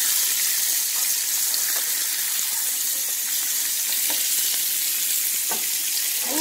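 Homemade hamburger patties sizzle steadily in a frying pan just after being flipped, a loud, continuous hiss with small crackles and pops running throughout, no voices.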